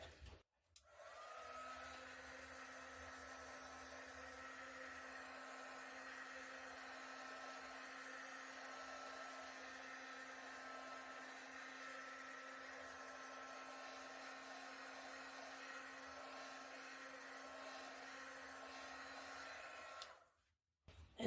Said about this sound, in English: So I'm going to quickly hit this with a heat gun.